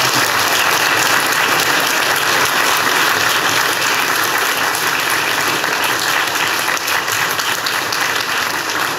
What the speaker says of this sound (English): if I can ask you just to give our panel a round of applause